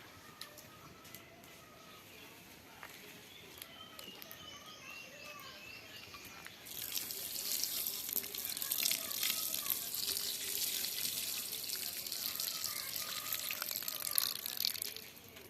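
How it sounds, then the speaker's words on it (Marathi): Elephant foot yam (suran) being rinsed under running tap water, a steady bright splashing rush that starts partway through and continues loudly to the end, with birdsong in the background earlier. "सुरण छान असा धुवून घेतलेला आहे"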